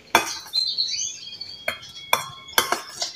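A spoon clinks and scrapes against a bowl while stirring a soft bird-feed paste, with several sharp taps spaced irregularly over a few seconds and quiet between them.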